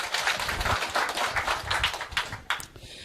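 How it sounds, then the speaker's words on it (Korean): An audience at a business success-story seminar claps in a dense burst of applause that stays fairly loud and tapers slightly toward the end. "박수 한번 더 주세요"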